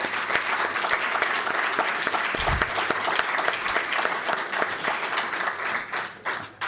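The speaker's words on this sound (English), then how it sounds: "Huge round of applause." A conference audience applauds steadily, with dense clapping at an even level throughout before it starts to thin near the end.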